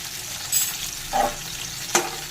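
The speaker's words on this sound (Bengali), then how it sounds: "এখানে ফোড়ন দিয়ে দেবো তেজপাতা আর কিছুটা সাদা জিরে" Bay leaf and cumin seeds sizzling in hot oil beside frying potato and cauliflower, a short steady hiss with a couple of sharper crackling bursts.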